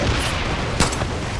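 A blast in the video game Far Cry New Dawn gives a sharp burst partway through over a loud, dense backdrop of game gunfire and rumble, with no clear pause.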